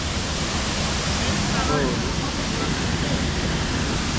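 Tibumana waterfall in Bali pours in a loud, constant close-up rush of falling water. A man briefly exclaims partway through.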